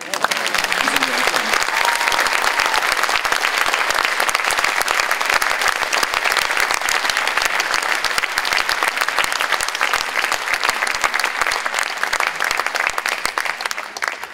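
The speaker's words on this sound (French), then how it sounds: "Vous pouvez continuer à les applaudir" An audience at a school orchestra concert in Gorron keeps up long, dense applause, a steady roar of many hands clapping at close range, with a voice faintly heard at the start.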